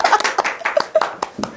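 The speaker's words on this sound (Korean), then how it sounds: "큰 박수로 함께 맞이하겠습니다" A small audience at a poetry book talk claps to welcome poet Yoo Hee-kyung, a short burst of scattered, close hand claps.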